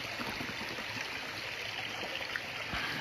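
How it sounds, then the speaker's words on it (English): A cold mountain creek flows steadily with a continuous rushing, gurgling wash, close and even throughout, with no voices. "filtering some water out of the creek right here"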